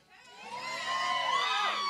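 A live-music lounge crowd breaks into loud cheering and whoops that swell from quiet to a sustained roar, with individual shouts standing out.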